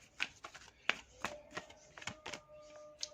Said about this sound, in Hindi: एक और कार्ड हम यहाँ पर लेंगे